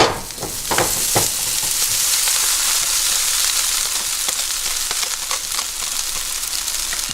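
Noodles and garlic sizzle hard in a good amount of hot oil, a loud continuous close frying hiss with clattering stir strokes early on, no talking.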